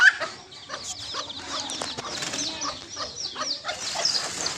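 A hen clucks repeatedly nearby, with bursts of higher chicken calls and other fowl sounds in the background, no talk heard.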